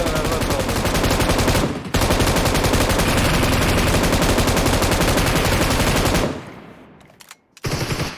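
Loud, sustained automatic gunfire from the mobile battle-royale game PUBG Mobile, with rapid continuous bursts, a short break near the start, then a fade into quieter scattered shots and sounds at the end.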